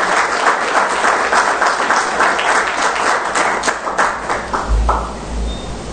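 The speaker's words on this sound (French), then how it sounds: "Je vous demande d'applaudir Madame Naomi, Mademoiselle Naomi Osaka" An audience applauds at a public welcome event in Haiti honouring tennis player Naomi Osaka, with sustained, fairly loud clapping that fades toward the end, heard alone without speech.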